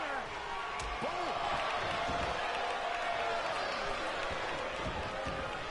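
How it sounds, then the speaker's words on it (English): A loud, roaring wrestling arena crowd at a Wrestle Wars event fills the whole stretch with dense, constant cheering and shouting, swelling steadily with no pause. "The sound of this crowd is deafening"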